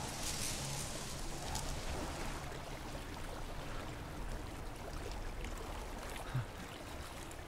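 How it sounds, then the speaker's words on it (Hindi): Flowing water in Resident Evil Village, a steady broadband rushing and trickling wash, moderately quiet and continuous throughout, heard alone. "ये पानी की आवाज क्यों आ रही है"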